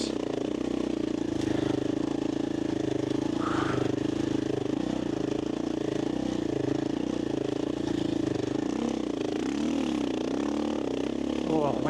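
A dirt bike engine drones steadily through desert sand at low revs, a continuous close mechanical hum with a short rise in pitch near the end, with some talk over it.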